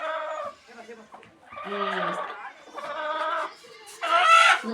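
A hen clucks repeatedly in agitated bursts after laying an egg, rising into a loud, excited cackle at the end; fairly close.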